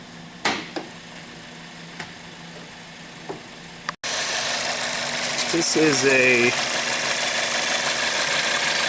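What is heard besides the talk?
CZT 1.4 turbo car engine idling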